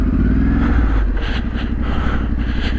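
Heavy motorcycle engine rumbling steadily while riding through the Yorkshire Dales, a loud, continuous low drone with slight rises in revs and wind rush, close and unbroken throughout.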